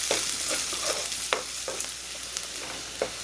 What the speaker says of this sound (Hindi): इनको हम हल्का सा सोते कर लेंगे।